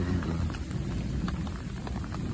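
Heavy thunderstorm rain pours steadily outdoors during a hike in the Lot, a dense continuous hiss with scattered patter of drops, close and even throughout, with no voices.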